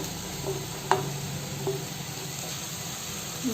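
Tomatoes tumble into a pan of browned onion, garlic and cloves, setting off a steady, moderately loud sizzle with a soft thud and a couple of light stirring clinks, no voices.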